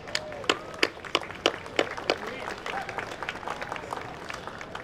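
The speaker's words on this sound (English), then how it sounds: "please, with a round of applause" Audience applauding at a university Founders' Day festival, a lively burst of claps with sharp individual strikes over a crowd murmur, and some voices mixed in as the clapping tapers off.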